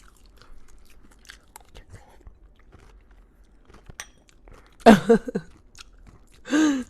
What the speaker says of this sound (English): eat the damn cereal, please. I want the crunch.